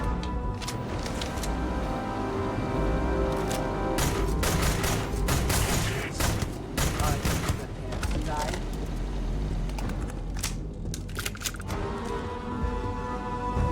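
Gunfire in the video game Starfield crackles as a series of sharp, irregular shots and bursts, some clustered rapidly, over a steady background of game ambience and music.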